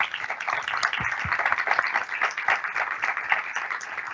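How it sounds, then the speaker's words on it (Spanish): A seminar audience on anti-corruption strategies applauds its panelists with moderate, steady clapping from a modest-sized group. The sound is slightly muffled, with a couple of louder thumps near the start. "Un aplauso para nuestros panelistas."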